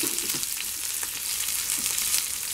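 Green chillies and garlic sizzle and fry steadily in a hot pan, a continuous close crackle with faint stirring touches and no voices.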